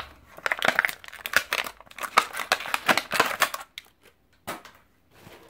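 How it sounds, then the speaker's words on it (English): Packaged set of tweezers being opened for a first aid kit: close, rapid crinkling and crushing of plastic packaging in dense bursts, then a pause and a few last rustles. "I'm going to open up this set of tweezers."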